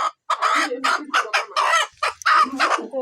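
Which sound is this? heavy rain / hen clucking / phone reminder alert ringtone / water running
hen clucking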